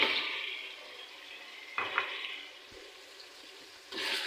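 Potatoes frying with spices and softened tomato in a pan for aloo matar pulao, a quiet sizzle with a few brief bursts of stirring and scraping, fading between them.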